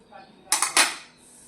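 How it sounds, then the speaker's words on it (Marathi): A knife cutting leftover roti rolls on a plate: a brief cluster of two or three close, bright metallic clinks and scrapes against the dish, with no talking. "हे बघा या प्रकारे मी सगळ्या वड्या आहे त्या कट करून घेते।"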